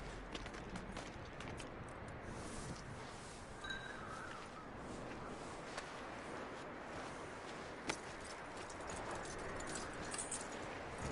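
Horse hooves walking in the video game Red Dead Redemption 2, a soft clip-clop rhythm at a steady pace that sits low in the mix under a constant wash of ambient outdoor game noise.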